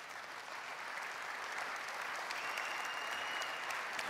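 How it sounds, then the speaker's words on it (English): Scattered applause from a conference audience at a general session follows a product announcement, a soft, fairly distant patter of clapping that holds steady for a few seconds. "some people are clapping, some people aren't"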